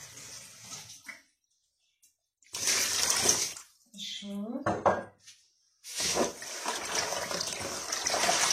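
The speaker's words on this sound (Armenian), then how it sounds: "Ջուր կանեմ։" Water poured into a container of salt brine for a barbecue meat marinade, coming in several separate splashing pours with short silent gaps between them, close and fairly loud.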